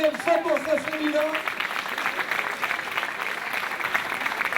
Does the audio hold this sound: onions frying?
no